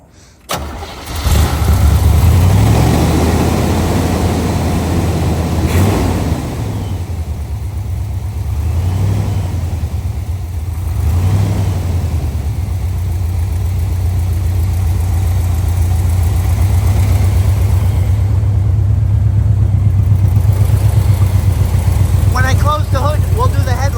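A 1968 Chevrolet Corvette convertible with a numbers-matching 350hp V8 cranks and catches in a loud burst, then settles into a steady, rumbling idle that runs on close by, with a few voices talking faintly underneath.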